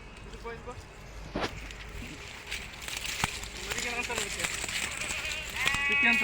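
Sheep and lambs bleat repeatedly, some close and some farther off, with people talking over the flock and occasional shuffling steps.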